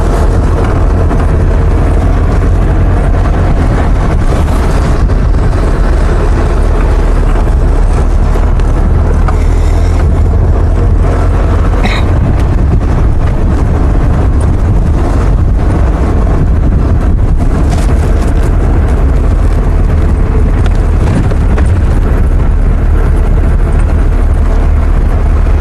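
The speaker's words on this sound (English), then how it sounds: "It's always a pity when it's windy like this as well" Steady, heavy wind buffeting a microphone, a loud continuous low rumble throughout with no voices.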